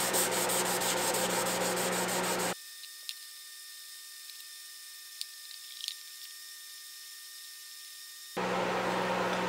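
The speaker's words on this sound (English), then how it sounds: "We're gonna try and wet sand that out with 600" Wet sanding of a faded car headlight with 600-grit paper, a loud rhythmic rubbing and scrubbing at the start, then near-silence with faint small knocks, before the scrubbing resumes at the end.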